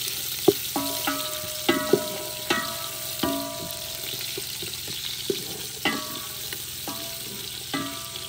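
Onions fry with whole spices in a cooking pot, a steady sizzle running throughout, broken by sharp knocks and scrapes of a spoon stirring against the metal every second or so.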